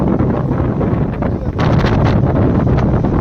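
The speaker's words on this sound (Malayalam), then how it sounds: "അമ്മാരി കാറ്റ് ഇവിടെ" Loud, strong wind in Munnar roars and buffets the microphone without a break, a rough continuous rumble at close range.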